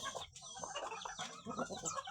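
Several free-range village chickens cluck and murmur close by at feeding time in a busy, overlapping chorus, with no talking.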